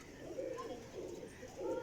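Racing pigeons kept in a loft coo softly in a few low, rolling calls, faint and slightly distant against a quiet background.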